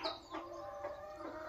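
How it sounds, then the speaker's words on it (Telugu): Two short-nose long-tail fowl chicks give a few soft clucks and short calls over about a second and a half, faint and close, with no talk. "ఇదిగోండి ఇవి రెండు షార్ట్ నోజ్ లాంగ్ టైల్ పిల్లలండి"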